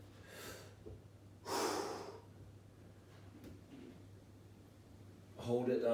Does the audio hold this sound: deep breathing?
yes